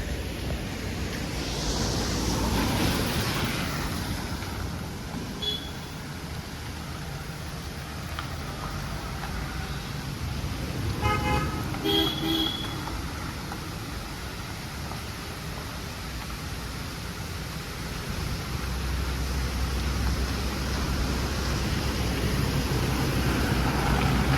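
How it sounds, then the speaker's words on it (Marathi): Steady rushing water flows on and on, a broad continuous wash with some wind buffeting, a few faint clinks midway, no talk. "तुम्ही बघू झालं किती छान प्रकारे पाणी वाहत आहे"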